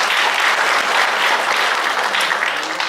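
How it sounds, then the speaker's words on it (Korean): A large audience at a live Korean urban regeneration broadcast applauds, dense continuous clapping that stays loud and even throughout without a break. "우리 응원의 박수를 한번 보내주시면 좋겠네요"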